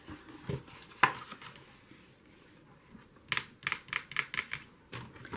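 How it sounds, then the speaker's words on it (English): Scissors snip through paper for a junk journal, a single sharp cut early on, then a quick run of crisp, close snips near the end over a quiet room. "And now I'm going to cut."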